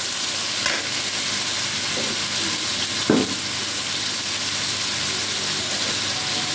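Potato, pointed gourd and carrot, finely chopped and washed, fry in a pan with a steady soft sizzle and hiss, broken by a few brief stirring scrapes, close and moderately loud with no talk.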